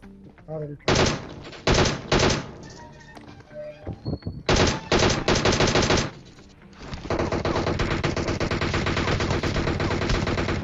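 Automatic weapon fire in the PUBG video game while shooting an enemy player: loud repeated bursts of rapid shots with short gaps, ending in a long sustained stream of fire.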